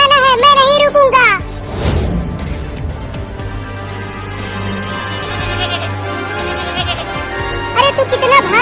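A cartoon baby goat bleats loudly in wavering, high cries at the start and again at the end, with animated voices talking and music in between.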